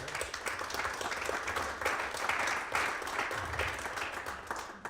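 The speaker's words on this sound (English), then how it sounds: "So I think that's another applause for you, Volker." Applause from an audience at a charity fund investment talk, a steady patter of many hands clapping at moderate distance for several seconds.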